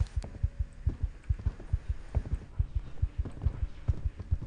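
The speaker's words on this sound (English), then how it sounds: "It's the heartbeat." A heartbeat thumps in a ghost-hunting video game, regular paired low beats repeating steadily at a moderate pace, loud and close against a faint hum, with no speech.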